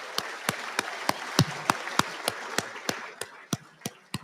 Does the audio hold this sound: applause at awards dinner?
yes